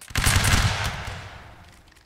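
Musket volley from a line of soldiers in the video game Napoleonic Wars, a loud ragged burst of many near-simultaneous shots that rings out and decays over about two seconds.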